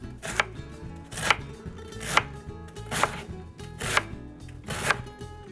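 A knife slices washed cabbage thinly for coleslaw, six sharp, evenly spaced cuts about one second apart, each a crisp crunch against the board, close and clear with no talking.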